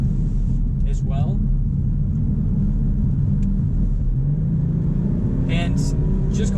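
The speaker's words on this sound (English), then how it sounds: "So we're gonna go on the interstate here just to get a little bit of an acceleration, just to see how this performs on the interstate" Heard from inside the cabin, a 2018 Subaru Legacy 3.6R accelerates onto an interstate with a constant low engine and road rumble, and the engine note climbs in pitch in the later seconds.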